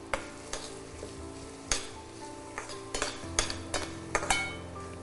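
Capsicum sautés in oil with a low, steady sizzle, broken by intermittent scrapes and clinks of a spatula against the pan.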